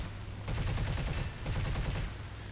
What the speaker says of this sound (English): You see that 30mm cannon just took off that wing.